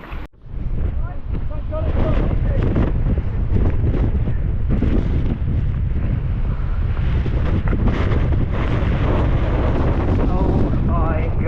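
High winds buffet the microphone while mountain biking at Cwmcarn in the rain, a loud continuous rumbling gust noise with rustling and faint voices underneath.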